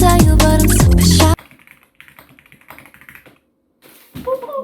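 Rapid, loud clacking on a custom gaming keyboard, dense keystrokes over music at first, then sparser, quieter taps after the music cuts out.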